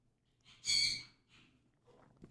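A pet bird screams once behind a closed door: a single harsh, shrill call, muffled and fairly faint, followed by softer chirps over quiet room hum.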